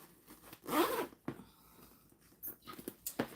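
A zipper on a vinyl bag being sewn gives one loud, close zip near the start, followed by softer scattered rustles and clicks of handling, with no talking.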